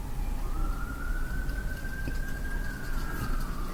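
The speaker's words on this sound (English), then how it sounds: "There's sirens going on as well." A siren wails steadily in the distance, its pitch rising and then slowly falling, over a constant low rumble of traffic.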